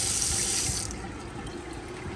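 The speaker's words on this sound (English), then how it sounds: "there we go, the new faucet. Much better spray pattern." Water sprays steadily from a newly installed kitchen faucet into a sink, hissing brightly at first, then easing to a softer, lower flow.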